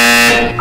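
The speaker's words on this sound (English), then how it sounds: "When you hear the buzzer, look down at the floor." A loud, harsh electronic buzzer sounds in a short exercise-instruction setting, one steady tonal blast that cuts off abruptly after a fraction of a second, alone with no speech.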